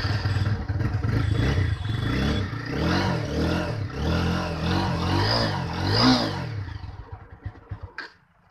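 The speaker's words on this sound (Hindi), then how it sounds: "तो ये मेरा है 200 अपाची 4V का बाइक, तो एक सेल्फ में स्टार्ट होगा।" A TVS Apache 200 4V motorcycle with a spark plug problem cranks on its self-starter and catches, its engine running with a rough, uneven idle close by, then it cuts off abruptly near the end.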